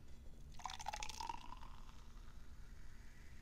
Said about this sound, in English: Sparkling water.